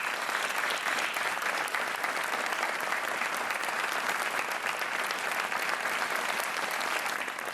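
A studio audience at a TV game show breaks into steady, dense applause for a contestant, sustained and loud, with no break throughout.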